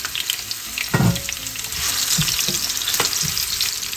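Red onion frying in a pan for Filipino ginataang sugpo, a steady close sizzle with a few sharper scraping and stirring knocks scattered across it.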